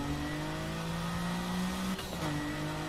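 A car engine in Need For Speed Heat revs steadily at high pitch as it accelerates, then briefly shifts gear and climbs again, loud and continuous with no talking.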